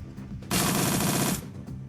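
A single short burst of rapid automatic gunfire from a gun in Shadowrun: Dragonfall, loud and close, lasting under a second.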